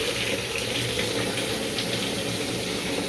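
Water runs steadily from a newly plumbed hot tap on a freshly fitted kitchen sink, a constant close hiss and splash with no talk.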